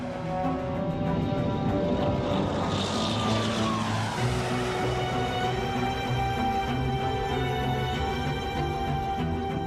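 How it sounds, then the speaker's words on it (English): Two propeller planes roaring as they take off into a stormy sky, a loud steady engine drone with a rising pitch sweep, heard alone without talk. "Both planes take off into a stormy sky."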